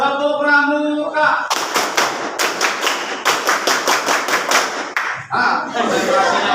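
A school class performs the Indonesian scout clap in unison, bursts of sharp rhythmic claps in grouped patterns, preceded by a voice and followed by more talk and a final clap cluster.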